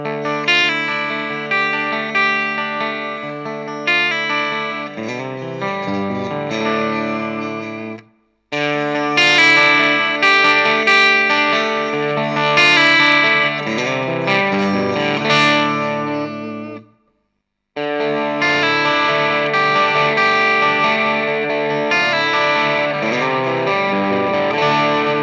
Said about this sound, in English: The tube screamer on clean sounds great.